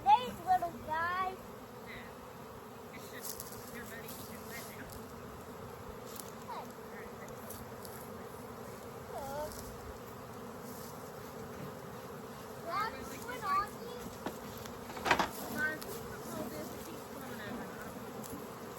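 A swarm of honey bees drones in a dense, continuous buzz, with individual bees passing close by now and then while people talk intermittently nearby.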